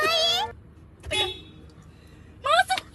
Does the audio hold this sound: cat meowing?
no